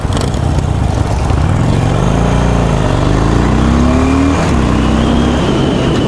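A fuel-injected roadster motorcycle engine revs loudly and up close, its pitch climbing and falling with each snap of the throttle under a constant rough drone.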